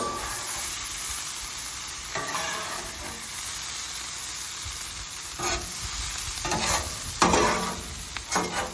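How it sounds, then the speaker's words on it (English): Cabbage and corned beef frying on a griddle at a state park, stirred with two spatulas: constant loud sizzle broken by repeated scraping and tossing strokes, close up. "That's where I'm going to go in with 2 spatulas."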